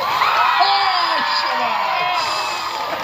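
A comedy show audience in Surat whooping and shouting, with a loud burst of crowd yells and cheering that fades into lingering murmur; distinct clapping is not prominent.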